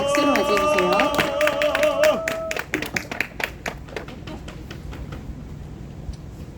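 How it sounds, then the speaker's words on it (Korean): A crowd at a rally against legalizing abortion claps to welcome a pastor to the stage. Toned voices or music open the moment, then scattered, uneven hand claps continue after it fades. "박수로 맞이해주세요."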